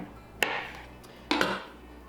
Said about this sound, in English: We're just going to cut these in like little half moons with my super sharp knife.